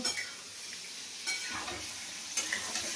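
Prawns frying in oil in a kadai, a close, soft crackling sizzle broken by a few sharp stirring scrapes at regular intervals, with no voices.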